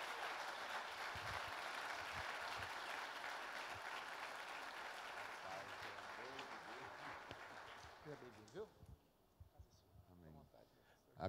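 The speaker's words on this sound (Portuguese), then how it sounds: "Vamos aplaudir Jesus" A church congregation applauds steadily at a Sunday morning service, the dense clapping filling the first eight seconds before thinning out and fading into quieter room sound and speech.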